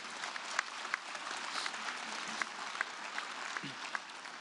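An audience at the UN climate summit in New York applauds, giving a steady, moderately distant clatter of many hands with a few sharper individual claps standing out.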